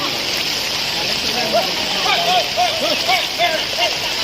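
Rising floodwater in Chiplun rushing steadily, a loud continuous wash of flowing water close by, with animal calls and voices heard faintly over it.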